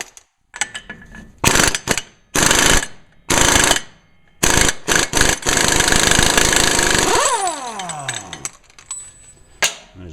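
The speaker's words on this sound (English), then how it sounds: "I'm going to remove the axle nut here." An impact wrench hammers in several loud, rapid bursts while removing the axle nut on a 1998 GMC K1500 during a ball joint replacement, followed by the whine of the tool spinning down.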